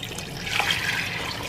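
Water being poured into a pot of pure cane sugar to make syrup for canning apples, a soft steady hiss of running liquid lasting the whole moment, fairly quiet with no voices.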